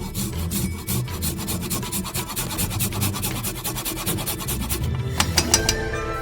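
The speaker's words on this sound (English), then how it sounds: "Let's grate some ginger directly into the pan." Fresh ginger rasped on a grater straight into a frying pan with sesame oil, a steady run of quick, close scraping strokes that speed up and sharpen near the end, with no talk.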